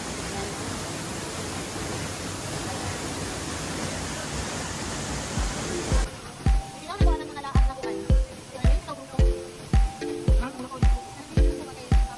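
A waterfall on a ridge-to-reef eco-tour in Gingoog City makes a steady, full rushing roar for about six seconds before rhythmic music with a regular beat takes over and the water fades beneath it.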